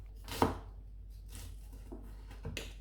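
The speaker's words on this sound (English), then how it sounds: "I'm going to chop 2 shallots quite coarsely since these will cook through very quickly" A kitchen knife chopping two shallots coarsely on a board, a few distinct, sharp knocks spaced apart, close and clear with a quiet background.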